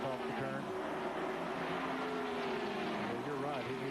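NASCAR stock cars racing around the track at the 1994 GM Goodwrench Dealer 400, a steady loud roar of engines with rising and falling pitches as cars pass, under broadcast commentary.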